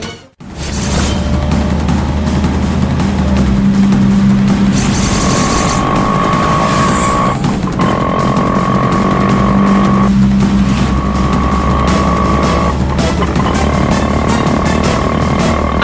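An auto rickshaw drives fast while following a car, a loud, constant engine roar with traffic noise and a few tonal horn-like tones mixed in throughout.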